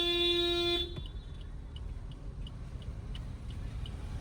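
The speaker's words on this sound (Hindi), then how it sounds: "एक लॉन्ग हॉर्न प्रेस करो" A car horn held in one long steady blast during a driving lesson, loud and close, cutting off abruptly after under a second, followed by quiet engine hum and faint ticking.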